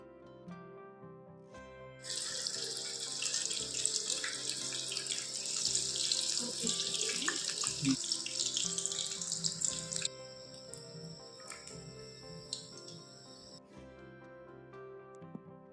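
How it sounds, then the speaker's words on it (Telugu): Green chillies coated in gram flour batter deep-fry in oil over a medium flame. A steady hiss of sizzling swells strongly for several seconds, then settles to a quieter bubbling. "మిర్చి ఆయిల్లో వేసాక మీడియం ఫ్లేమ్లో బాగా ఫ్రై చేసుకోవాలి."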